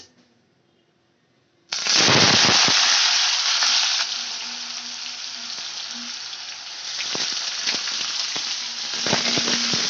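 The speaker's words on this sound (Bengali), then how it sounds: "এবার আমি কেটে রাখা আলুগুলো ভেজে নেব" Cut potatoes drop into hot oil in a wok, bursting into a sudden loud close sizzle after a near-silent start, then a steady bubbling fry with occasional crackles and stirring knocks.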